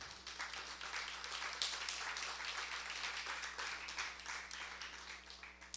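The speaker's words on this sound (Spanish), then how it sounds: "Denle un aplauso al Señor." Clapping rises from a church congregation during a sermon, a dense, continuous patter of many hands that sounds faint and distant, with a steady low hum underneath.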